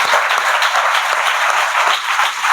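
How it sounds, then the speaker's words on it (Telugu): A church congregation at a Telugu Christian sermon bursts into loud, sustained applause, a dense wash of many hands clapping continuously throughout. "గట్టిగా చప్పట్లు కొట్టాడు."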